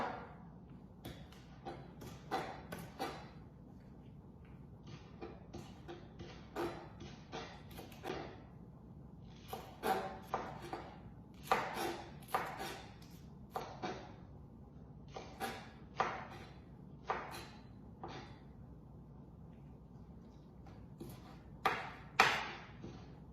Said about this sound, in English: After you finish cutting up your green onion